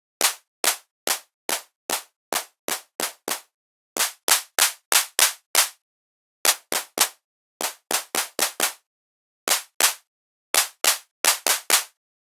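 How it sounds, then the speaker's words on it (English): A synthesized drum machine clap, shaped with drive and color settings, fires in irregular bursts of short, bright, snappy hits with dry gaps between groups, loud and alone with no voices. "Now we have a nice basic drum machine clap."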